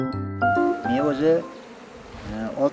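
Honey bees buzz around a beekeeper's hives, a steady droning hum with a wavering tone, close and fairly loud throughout.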